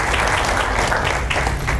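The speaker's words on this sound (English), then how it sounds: "That, I think, deserves a round of applause." A lecture hall audience claps in a brief, loud, continuous round of applause that fills the whole moment.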